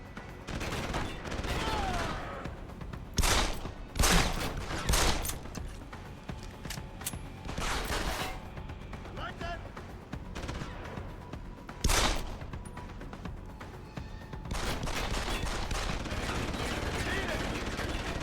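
SMG gunfire in the game Deus Ex: Human Revolution, several loud short bursts of rapid shots spread through the clip over a constant background of game sound, with some talking mixed in.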